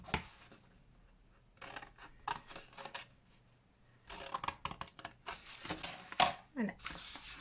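A cardboard box cut for desk storage, with bursts of scraping, snipping cuts in irregular clusters close by and a short pause in between, and a voice heard faintly.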